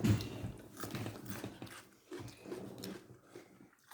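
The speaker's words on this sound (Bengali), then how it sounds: "আমরা খাচ্ছি।" People eating afternoon snacks such as semai and pakora: soft, continuous chewing and biting with faint crunches and clinks, close and quiet, no clear talk.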